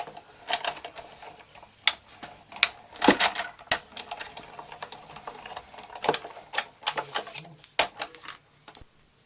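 A die-cutting machine is cranked by hand, pushing Wild Wasabi card stock and a leaf die through for a sunflower card, making a run of uneven mechanical clicks and ratcheting taps, close and fairly quiet.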